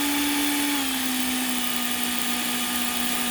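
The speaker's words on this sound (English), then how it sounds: "Sorry for the loud drill noise" An electric drill spins a Ford TFI ignition on a bench test, whining steadily at high speed, loud and continuous, with its pitch dipping slightly partway through.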